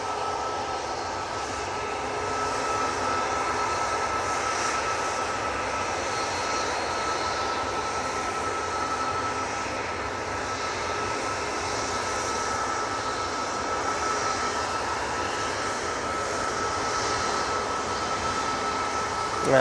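A Qatar Airways airliner at Manchester Airport roars steadily for a long stretch, a loud, broad engine rumble with no pauses.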